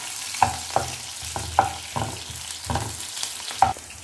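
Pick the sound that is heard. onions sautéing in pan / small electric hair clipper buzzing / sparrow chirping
onions sautéing in pan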